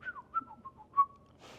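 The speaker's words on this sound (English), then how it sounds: "In this activity, I'll be using a slide whistle" A slide whistle plays a run of short, gliding pitch swoops, sliding up and down and ending on a longer held tone, followed by a brief breathy hiss.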